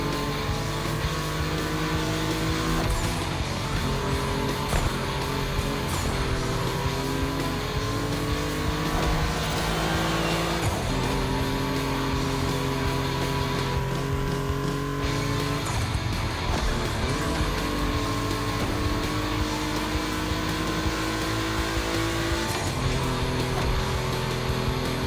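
Volkswagen cars racing on a gymkhana track, loud continuous engine roar with revving and pitch sweeps as they accelerate, occasional tire squeal, no talking.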